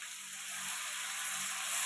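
Chopped tomato hits browned onions frying in a pan for a tangra fish curry, giving a steady, soft, high sizzle that swells slightly toward the end, heard alone.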